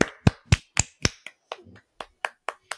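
Sharp hand claps ring out close by, about a dozen in a steady, brisk rhythm with a brief pause midway, like a small round of applause from one person.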